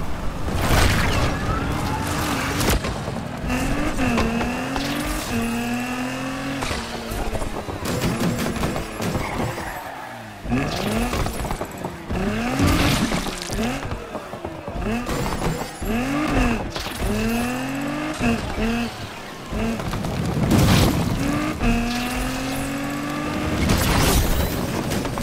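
Race cars in Need for Speed Unbound rev and accelerate through repeated rising engine sweeps, loud and close, with sharp bursts and booms mixed in over a continuous roar.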